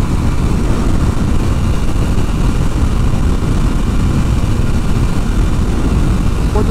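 A Triumph Tiger Sport 660 motorcycle runs at high speed on the road, a dense, steady engine drone mixed with heavy wind rush, constant and loud throughout with no pauses.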